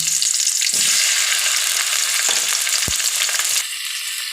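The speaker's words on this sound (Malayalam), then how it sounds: "ഉള്ളി ചെറുതായിട്ടൊന്ന് വാടി വരുമ്പോൾ തക്കാളിയും കൂടി ചേർത്ത്" Steady, loud sizzling of onion and tomato sautéing in a pan for chutney, with a few scrapes of stirring, continuous throughout and easing slightly near the end.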